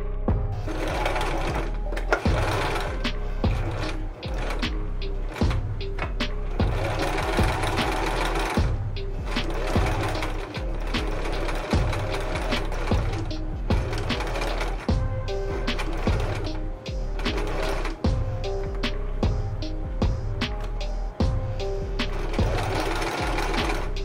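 Sewing machine stitching the gathered skirt of a dress made from vintage bedsheets to its bodice, a loud, steady motorized whir with dense rapid needle clatter running continuously and close for the whole stretch, briefly pausing and restarting.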